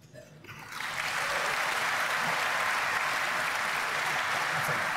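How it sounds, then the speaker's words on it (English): Applause from a debate audience for Dr. Michael Ruse, opening with a brief quieter moment before the clapping swells into a loud, sustained, even wash that carries on to the end. "give a warm round of applause to Dr. Michael Ruse"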